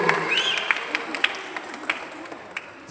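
Scattered audience applause at a church gathering, light uneven clapping from a small crowd, fairly close and steady over a few seconds, with a voice speaking over it.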